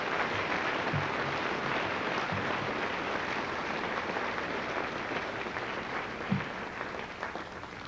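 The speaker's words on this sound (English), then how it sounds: "Please give them a round of applause." Steady applause from a crowd at a high school Veterans Day celebration honoring veterans, a continuous even wash of clapping lasting several seconds with a few louder thumps.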